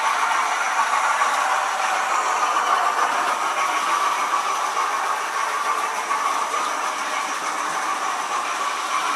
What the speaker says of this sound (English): There's that one going round, and as I said, this is at 40 mile an hour because he's pulling all wagons.